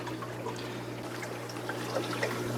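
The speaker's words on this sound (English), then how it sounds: "the water is now spraying back across those screens" An aquarium pump sprays water across algae scrubber screens, giving a soft, steady trickle and splash over a low constant hum from the pump.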